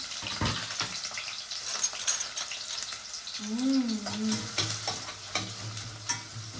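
Chopped onions dropped into hot oil for a chicken donne biryani, giving a steady close sizzle with stirring scrapes and clatters running through it, while a person speaks over part of it.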